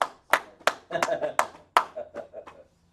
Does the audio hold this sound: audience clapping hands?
yes